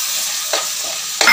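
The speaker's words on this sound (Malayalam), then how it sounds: "ഇനി നമുക്ക് 4 ടേബിൾ സ്പൂൺ തൈര് ഇതിൽ ചേർത്ത് കൊടുക്കാം" Curd is stirred into sautéed tomatoes in a hot pan for chicken biriyani, giving a steady close sizzle broken by two short scraping stirs of the spoon, with no voices.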